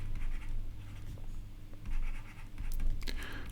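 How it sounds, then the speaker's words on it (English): A marker or chalk scratches across a classroom board in a few short bursts of writing, quiet and close, with brief pauses between strokes and faint room noise. "So I'll just write it down."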